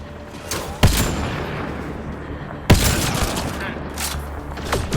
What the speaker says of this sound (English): Not like they want to go investigate the gunshots or explosions or anything.